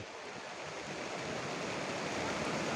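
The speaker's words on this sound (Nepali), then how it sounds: "खोला बढ्दो क्रममा छ" A rising river in flood rushes in a continuous, dense roar of water, steady and fairly close, with no voices.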